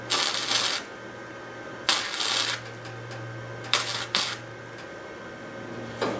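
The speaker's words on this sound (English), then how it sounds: "I'm going to tack it right here, but I'm just going to tack it in case I need to cut it back free" A welder tacks a rear fenderwell, producing a few short, harsh crackling bursts of under a second each. A low steady hum carries on between the bursts.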